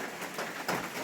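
Steady rain patters on a tent or shelter at the start of a day's hike on a long trail, a dense, even hiss with slightly louder gusts of drops, heard alone.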